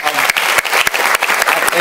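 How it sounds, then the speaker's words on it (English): Audience applause at an academic conference on higher education and international development, a dense, steady patter of many hands clapping for a keynote professor, continuous and fairly close throughout. "Would that require another round of applause?"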